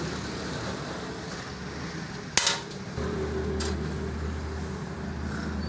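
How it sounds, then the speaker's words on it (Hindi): Loosening a brake rod on a vehicle's worn drum brake gives one sharp metallic clank, a faint second tap a moment later, and a steady low rumble of nearby road traffic throughout. "तो यहाँ पर हम इस ब्रेक राड को खोलेंगे।"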